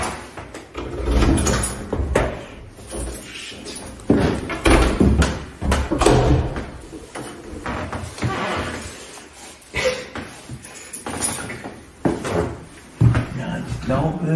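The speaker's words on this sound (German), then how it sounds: "wir sind immer noch am rausfinden, wie wir die Tür aufbekommen" A key works at a stuck door, making repeated close rattles, clunks and knocks of the lock and door over voices talking throughout.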